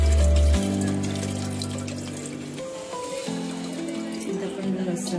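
Tamarind juice pouring into melted jaggery while making Ugadi pachadi, a close, steady liquid pour with low gurgling tones that fade gradually over a few seconds.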